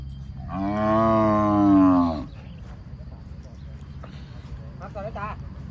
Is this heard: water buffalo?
yes